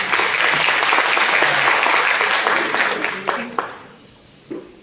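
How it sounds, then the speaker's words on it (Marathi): Audience applause at a music concert after a devotional song, a loud, dense burst of clapping that holds steady and then thins out, with a few scattered claps trailing at the end. "जय निशब्द करणाऱ्या टाळ्या"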